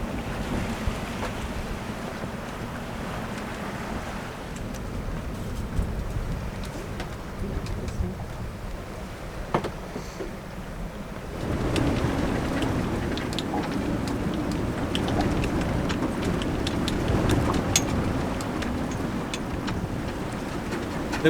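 A strong windstorm gusting to 50 knots howls around a sailboat at anchor, a constant loud roar of wind with splashing water and rigging noise that grows heavier partway through.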